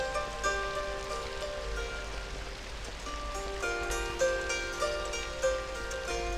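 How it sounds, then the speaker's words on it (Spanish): Monsoon rain falls on Borneo rainforest, a continuous hiss of drops on leaves and surfaces, mixed with musical tones in the background. "Entonces no para de llover"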